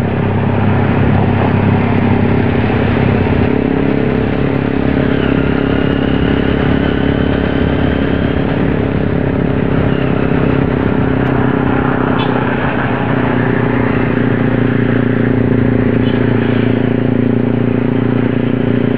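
A motorcycle rides along a road on a Sunday group ride in Palembang, its engine droning steadily and loud at a relaxed pace, with wind and road noise constant throughout.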